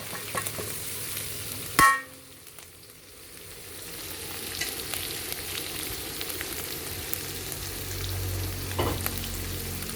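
Field rat meat being stir-fried with holy basil in a hot pan, a steady close sizzle with scraping stir strokes, opened by a sharp clatter and building gradually louder.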